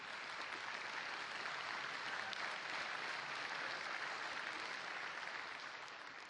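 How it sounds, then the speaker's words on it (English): A large audience applauds at a keynote during Fanfest 2012, dense, steady clapping that holds evenly and tapers slightly at the end, with no voices over it. "Exactly, you applauded a little too soon"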